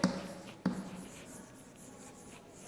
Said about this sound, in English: I'll write the topic on the board